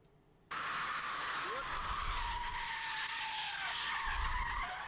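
A car spins out on the Nürburgring Nordschleife during public touring laps, its tires skidding in a long, loud, sustained squeal that starts abruptly, with engine rumble underneath.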